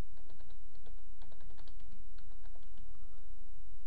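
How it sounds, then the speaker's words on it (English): Words being typed on a computer keyboard while a text label is added in Microsoft Access, a quick irregular run of close, crisp key clicks with brief pauses and no talking. "and then type out some words"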